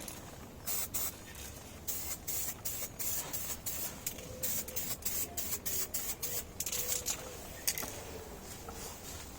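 A spray can lays a coat of lacquer on a motorcycle tank in a quick run of short hissing bursts with brief gaps between them, close and fairly faint.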